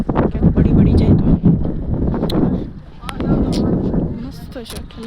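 Wind gusting at a dam by deep water on a partly cloudy day, loud rumbling buffets hitting the microphone in surges with brief lulls between, while people talk nearby.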